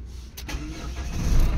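A Chevrolet Trailblazer that had suddenly stalled starts up: a brief crank that catches into a rising, close engine rumble, with no voices.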